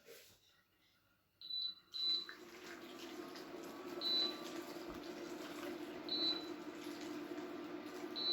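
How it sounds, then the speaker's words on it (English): Freshly boiled water pours from a kettle over potatoes in a pan, a steady, soft rushing stream. A few faint electronic beeps sound during the pour. "Pop these in, and I'm going to use water from the kettle."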